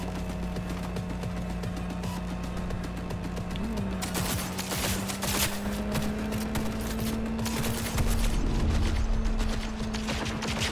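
Gunfire in a Night City video game, bursts of rapid shots over a steady engine-like hum, with dense volleys clustering in the middle and again toward the end, and a voice occasionally talking.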